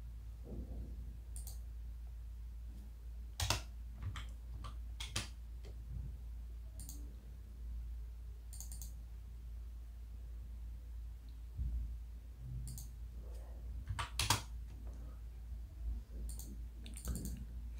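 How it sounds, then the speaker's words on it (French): Computer mouse clicks during work in an Excel spreadsheet: sparse, sharp single and double clicks scattered unevenly, close and fairly quiet, with no talk. "Ici, enfin, je clique."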